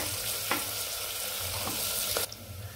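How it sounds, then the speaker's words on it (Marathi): Chopped onion and chili sizzle and fry steadily in a hot pan for a vegetable pulao, with a few soft stirring scrapes, before the frying noise drops away near the end. "त्यामध्ये आपण हे 1 बाउल बारीक चिरलेला आपला कांदा टाकायचा। कांदा चांगला परतू द्यायचा थोडा।"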